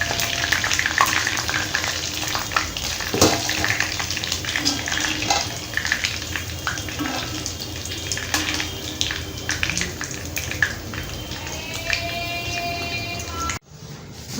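Chicken wings frying in hot oil for a Chinese-style dish, with a continuous dense sizzle, scattered pops and a few clinks of utensils, close and loud with no talk.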